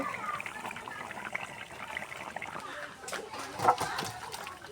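Water poured into a pan of fried fish while cooking chal kumro curry, a soft splashing and trickling that rises near the end, with a brief sharper splash, close and moderately quiet.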